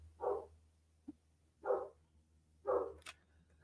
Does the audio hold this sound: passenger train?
no